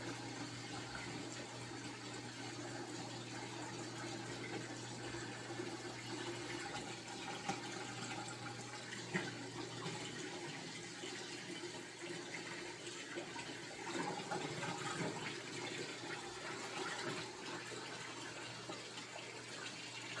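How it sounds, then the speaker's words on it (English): A pump drains water from a large planted aquarium, a steady low hum beneath continuous trickling and gurgling water, close and even throughout with no talking. "we got the pump turned on, so it's going to start draining now"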